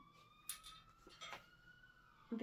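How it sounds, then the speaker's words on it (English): A faint ambulance siren wails with a steady rising-and-falling tone, distant and low in level, broken by a few soft clinks and bumps nearby. "ambulance is here for me"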